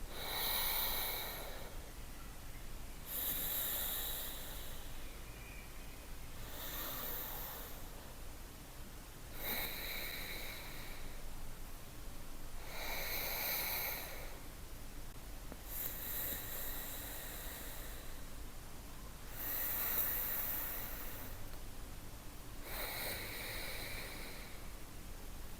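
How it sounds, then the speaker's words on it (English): Slow, calm breaths drawn through the nose during a seated yoga session, each soft airy inhale and exhale rising and fading in an even rhythm, close and quiet with no talking. "Breathing through both sides of the nose."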